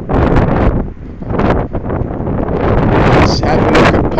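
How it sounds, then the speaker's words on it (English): Strong wind buffets the microphone at Denia Castle in Spain, loud gusty rumbling throughout, with a person talking underneath. "It might be a little noisy with all the wind blowing"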